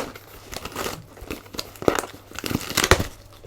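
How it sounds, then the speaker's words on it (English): Scissors snip and tear through packing tape on a cardboard toy box, giving a few close crinkly rips and cuts with brief pauses between them. "Allow me to utilize this nifty pair of scissors to penetrate through the box"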